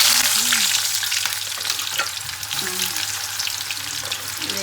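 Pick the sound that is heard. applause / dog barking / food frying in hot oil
food frying in hot oil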